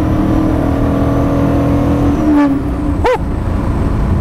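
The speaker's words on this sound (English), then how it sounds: "That's got quite a note to it. Quite an engine note." An original Maserati Ghibli's engine roars loud and close while accelerating, the note rising in pitch with sharp gear-change dips, no voices present.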